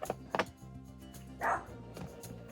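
A few short, muffled barks from a dog, spaced out over a couple of seconds, somewhat distant.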